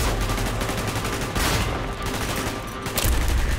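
Continuous distant gunfire in Call of Duty: Black Ops rattles in a dense, steady barrage, with occasional heavier bursts and no clear talking.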